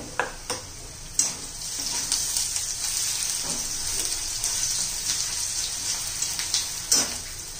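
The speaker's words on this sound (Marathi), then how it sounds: "आपला कांदा परततोय तिकडे" Onions sauté in a pan for a dhaba-style bhuna chicken masala, giving a continuous close sizzle punctuated by scattered sharp clinks and stirring knocks, with no talking.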